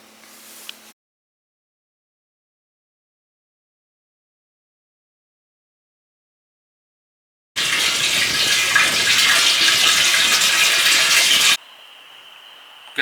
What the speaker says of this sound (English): we're just filling this sugar syrup toad up with water and bleach